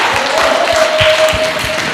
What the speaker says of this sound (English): can we please give a round of applause for all those people in that session?